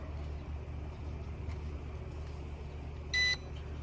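A drone gives a single short electronic beep during calibration near the end, over a steady low hum and background noise.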